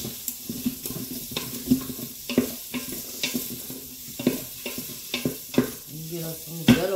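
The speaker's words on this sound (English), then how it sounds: "we're going to brown up this sausage real quick" Pre-cooked sausage browning in a pan, sizzling and crackling steadily up close, with repeated scraping stirs and clinks of the utensil against the pan.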